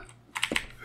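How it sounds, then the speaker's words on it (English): A computer keyboard is double-tapped while playing the 1992 DOS game Alone in the Dark, giving two quick close plastic key clicks over a quiet background. "I'm double tapping my keyboard and it's just not."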